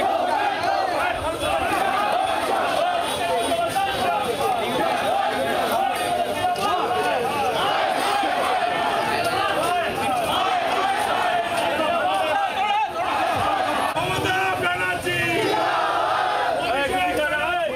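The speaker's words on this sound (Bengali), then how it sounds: "উত্তেজনার পরিস্থিতি, গো ব্যাক স্লোগান।" Protest crowd in Tufanganj surrounding MLA Malati Rava, shouting loud, dense "go back" slogans that stay heavy and continuous throughout, many voices massed together close by.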